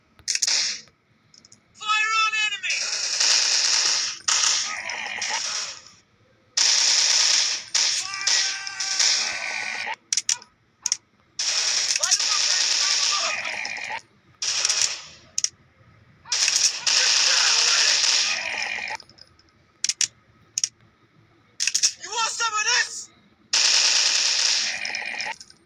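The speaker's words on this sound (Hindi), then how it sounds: "ये देखो भाई अपने आप ही चल रही है गन।" Rapid bursts of automatic gunfire in the Android game FPS Commando Strike repeat again and again, loud and crackling, with short pauses between the volleys.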